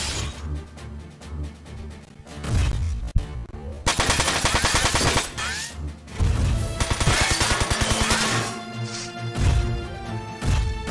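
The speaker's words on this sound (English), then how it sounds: "Wrong machine gun." Machine gun fire in the mecha strategy game Front Mission 4, heard as loud, dense bursts of rapid automatic shots with heavy impacts and crashes that come in several waves and leave short gaps between them.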